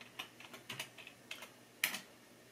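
A computer keyboard typed on in a short run of light, quick keystrokes, ending on one sharper, louder press, close and quiet with no voices.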